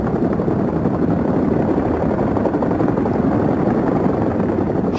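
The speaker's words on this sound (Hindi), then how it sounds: "Chinook हेलीकॉप्टर युद्ध के मैदान में हमारी तोपों का लगातार स्थान बदलने में मदद करता है" A Chinook military helicopter flies at the Vayu Shakti 2024 air force exercise in Pokhran, a loud, steady rotor-and-engine roar that fills the whole stretch without pause.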